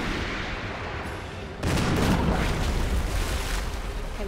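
A shotgun fires in the Resident Evil video game, one loud booming blast followed by a dense, lingering rumble.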